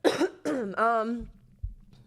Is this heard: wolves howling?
no